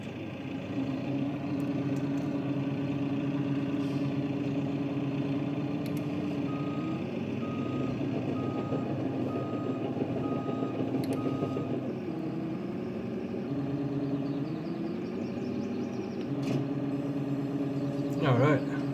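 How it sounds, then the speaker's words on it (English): A bulldozer in a farming video game idles steadily while its evenly spaced reversing beeps sound for several seconds, with a continuous engine drone throughout and a brief louder clunk near the end. "we're gonna hook the blade up to the bulldozer"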